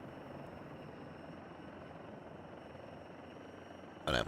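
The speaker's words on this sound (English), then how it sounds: "Definitely sounds like it's a helicopter whittling around here." Steady helicopter rotor drone in the flight simulator X-Plane 12 throughout, a continuous engine and blade hum, with a brief louder burst right at the end.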